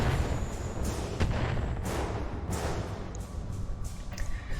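A weapon launcher in the RogueTech mech game fires a rapid series of heavy thumping blasts, several booming shots in quick succession over a dense, rumbling battlefield background.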